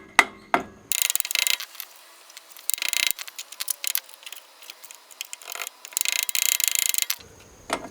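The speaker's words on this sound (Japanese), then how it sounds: "伸ばしたらハンマーで叩き抜く。" Sharp, close metallic hammer taps drive the bent cotter pin out of the 30 mm rear brake hub nut on a Subaru Pleo RS, a few isolated knocks followed by clustered bursts of rapid striking.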